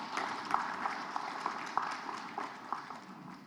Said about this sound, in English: I thought we should clap for the president.